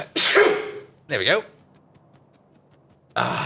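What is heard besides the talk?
sneeze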